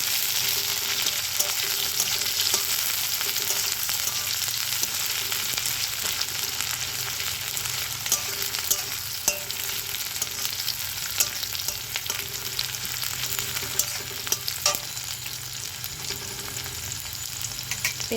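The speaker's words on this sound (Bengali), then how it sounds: "পেঁয়াজটা করে ভাজা ভাজা করে নেব।" Chopped onions frying in oil with cumin seeds, giving a continuous even sizzle with occasional pops and stirring sounds, steady and moderately loud with no talking.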